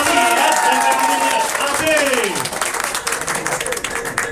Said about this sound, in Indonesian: Mari kita bagi tepukan